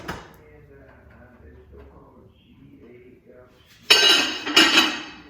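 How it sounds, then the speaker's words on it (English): A lid settles onto a slow cooker with a loud, close clatter, two bright clinks coming near the end after a stretch of quiet talk and low kitchen noise. "And put my lid on."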